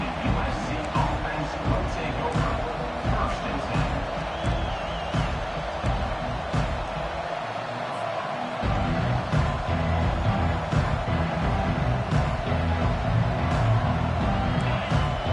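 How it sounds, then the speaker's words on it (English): A stadium crowd at a football game roars and cheers in a dense, continuous wash, with a commentator's voice running over it. "This crowd bringing an ear-splitting welcome to their visitors."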